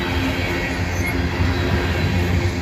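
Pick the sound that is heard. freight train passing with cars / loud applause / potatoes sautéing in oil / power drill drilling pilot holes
freight train passing with cars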